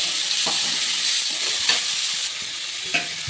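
Onion and potato fry in oil with cumin and bay leaf tempering, a strong, even close sizzle with a few soft stirring scrapes.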